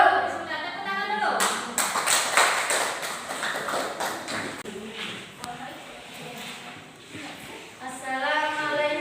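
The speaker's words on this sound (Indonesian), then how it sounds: "tepuk tangan dulu" Classroom applause from students, a spread of quick overlapping claps that swells after a teacher's call and then fades, with voices talking over and after it.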